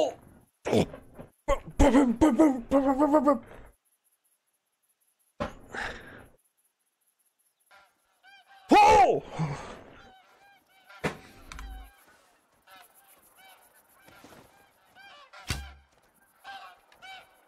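Geese honk in a hunting video game, Call of the Wild, with a few loud bursts early and midway and fainter calls scattered between stretches of quiet.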